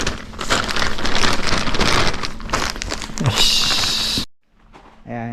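Rain begins falling on a vegetable garden, a close, dense patter of drops and crinkling hits that continues steadily before cutting off, followed by a brief voice.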